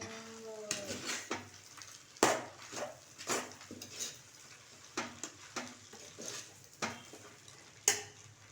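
Noodles being stirred with tomato ketchup in a pan, a soft sizzle beneath repeated scraping strokes and light clinks of utensil on metal, quiet and close, with irregular sharper taps standing out.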